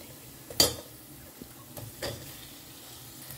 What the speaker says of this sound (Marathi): आतां आमी घालया प्रॉन्स